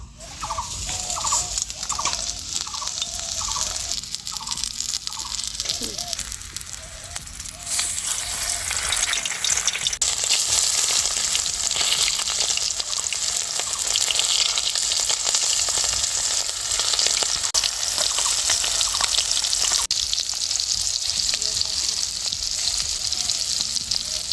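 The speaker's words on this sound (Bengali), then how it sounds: "এই মাছের তেলের বড়াটাকে হালকা আঁচে ধীরে ধীরে ভাজবো" Fish fat fritters fry slowly in oil over low heat, a steady dense sizzle lasting throughout. Some bubbling pops come early, then the hiss grows louder and stays even.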